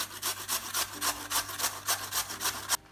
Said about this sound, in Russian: Наш цукини-кабачок вместе с картошкой сейчас мы натираем на вот эту крупную терку.